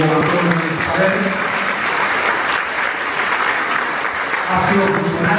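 Audience at a university law conference applauds as a speaker is introduced, a dense, steady wash of clapping filling the room throughout, with voices murmuring underneath.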